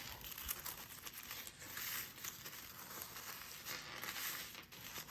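Packaging paper crinkles and rustles continuously as it is folded around a jewelry order, a close, soft, steady crumpling with small crackles and no talk.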